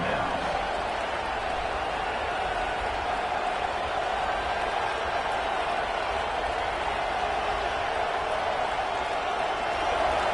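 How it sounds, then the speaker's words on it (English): A fired-up football stadium crowd roars in a dense, steady wall of noise that holds at an even loudness throughout, with no clear breaks or individual shouts. "this crowd is fired up. Listen to this noise here."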